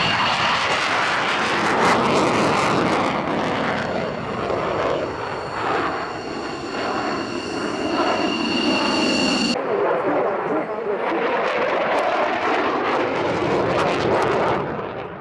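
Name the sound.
Eurofighter Typhoon jet aircraft flying an airshow display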